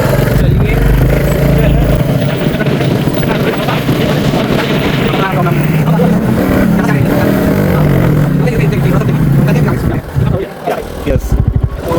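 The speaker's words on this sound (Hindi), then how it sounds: "ये इस रोड पे लेके चले बाइक को, चलिए।" A motorbike rides along a rural sandy road beside a river, its engine a loud continuous drone with wind rush throughout, briefly dipping near the end.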